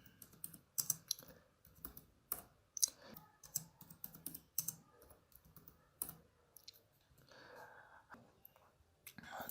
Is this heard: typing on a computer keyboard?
yes